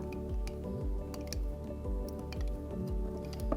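A spoon mixing sticky homemade slime, producing repeated wet squelches and drips in a steady rhythm, close and fairly quiet.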